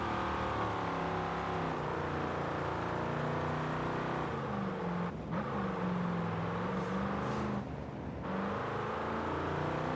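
An Oldsmobile engine in the racing game Forza Horizon 5 drones at a steady, loud pitch, rising and falling slightly as it revs, with two brief drops in power.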